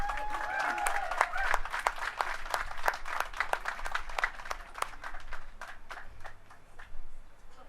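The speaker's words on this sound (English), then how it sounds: "Let's give them a round of applause." An outdoor crowd at a Hollywood Walk of Fame ceremony gives a round of applause as family members come on stage, a busy patter of claps that thins out toward the end, with some voices underneath.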